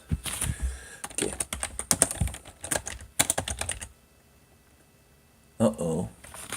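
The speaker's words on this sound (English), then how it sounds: "Apparently I hit the keyboard or something." Rapid clattering keystrokes on a computer keyboard used with an old Dell N03D laptop running Windows 2000 Pro, close and crisp in bursts, with a person talking over parts of it and a quiet gap before a final short flurry.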